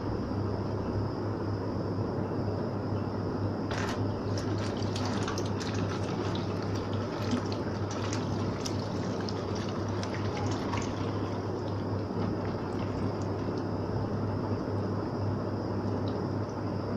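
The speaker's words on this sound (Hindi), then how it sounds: "इसको हम ऐसे हाथ पे उठाकर हल्का हल्का पानी खोलेंगे" Tap water runs steadily over roasted, charred eggplant held in a sink strainer basket, a constant close wash of flowing water with a low hum underneath and no talking.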